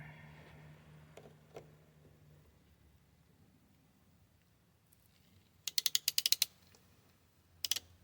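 A plumbing fitting for a SeaFlow house water pump is pushed onto a hose barb, giving a quick burst of about eight sharp, faint ratcheting clicks. A couple more clicks follow a moment later in an otherwise quiet room.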